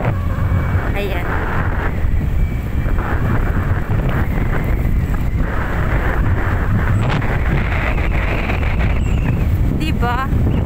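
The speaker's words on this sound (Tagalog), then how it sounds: "Ang lakas ng hangin" Strong wind roars steadily against the microphone during a habal-habal motorcycle ride, a dense continuous rumble that persists loudly throughout, with voices talking underneath.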